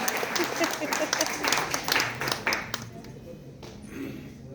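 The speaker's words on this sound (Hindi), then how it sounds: "मैं चाहता हूँ एक बार सब लोग ताली बजा दें" An audience at a Hindi spring poetry gathering bursts into brisk rhythmic clapping, with dense claps for about three seconds before the applause thins and fades out.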